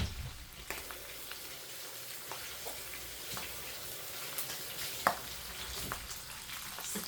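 Pork chops frying in a pan give off a steady, close hiss of sizzling fat with scattered pops and crackles throughout, with no voices.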